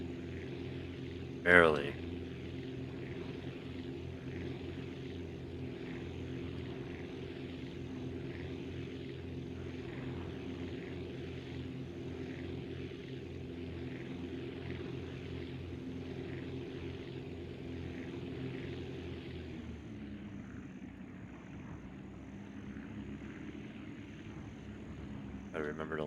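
A propeller plane in Aviassembly drones steadily in flight, carrying weight, its engine a continuous low hum with a brief sharp burst near the start and a slight drop in pitch toward the end; a voice speaks briefly.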